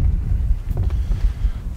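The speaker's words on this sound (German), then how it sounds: "Ja, war ganz schön windig gerade" Strong wind buffets the microphone outdoors during a New Year's Eve fireworks outing, making a continuous low, rumbling roar with gusty swells and no other clear sound.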